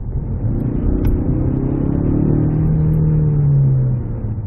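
A Kia Stinger facelift engine revs up steadily, its low drone rising in pitch over a few seconds before easing off, close and loud with no talking.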